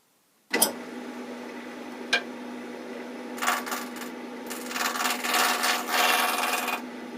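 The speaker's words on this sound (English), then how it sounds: "I do use the lathe at a relatively slow to medium speed." A wood lathe spinning at about 900 RPM hums steadily while turning wooden tent poles, with a sharp start, a single tap, then bursts of rasping, scraping cuts growing louder toward the end.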